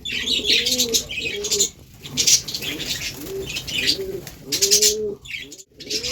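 Pet budgerigars in a cage with clay nesting pots, chirping and warbling in busy overlapping bursts, with brief flutters of wings, close and lively for several seconds.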